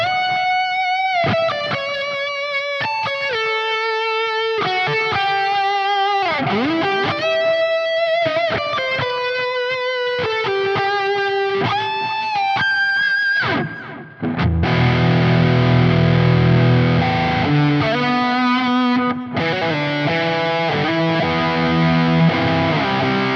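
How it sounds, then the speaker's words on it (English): A distorted electric guitar lead tone through a Quad Cortex with tape delay plays a melodic line of sustained bent notes with echoing repeats, then shifts to thick heavy chords, loud and close with no talking. "for the leads, I'm pushing up kind of the tape delay kind of sound and pulling some of that tone back"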